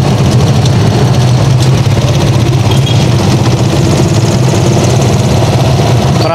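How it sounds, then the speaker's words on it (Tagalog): Street traffic in central Tuguegarao City, with motorcycles and cars: a loud, continuous low engine rumble, as if idling or crawling close by, with no voices heard. "Marami rin dito motor."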